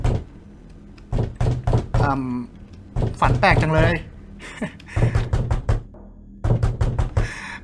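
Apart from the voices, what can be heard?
knocking on a door in the video game Slender Mirror World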